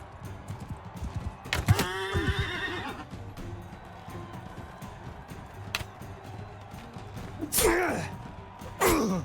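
Two shrill horse whinnies in the video game Mount & Blade II: Bannerlord, one early and one near the end, over faint hoofbeats, clicking, and a busy background during a fight against a cavalryman.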